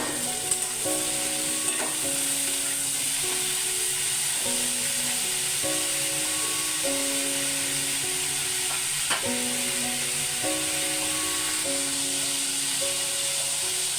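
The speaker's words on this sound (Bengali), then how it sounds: "ভালো করে সবগুলো ভেজে নেব।" Mushrooms frying in oil in a pan for chilli mushroom, giving a steady, close sizzle that runs the whole time under a soft melodic music line, with no talking.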